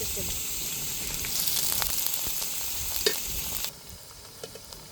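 Onions frying in oil for mutton biryani give a close, steady bright sizzle with a few stirring scrapes, then the hiss drops sharply to a quieter simmer near the end, with no voices.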